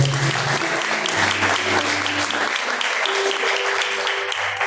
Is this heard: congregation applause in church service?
yes